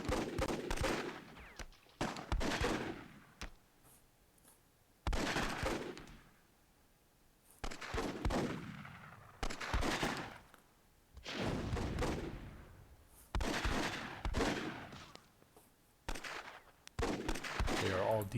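Gunfire bursts in the strategy game Myth II Soulblighter during a WWII-themed tournament final, repeated loud volleys every couple of seconds with sharp onsets and decaying tails, alone without talk.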